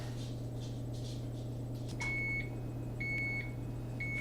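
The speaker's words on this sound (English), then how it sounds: "we got the beep, beep, beep again" Oven timer beeping in a home kitchen, three evenly spaced electronic beeps about a second apart over a steady low appliance hum, clear and moderately loud.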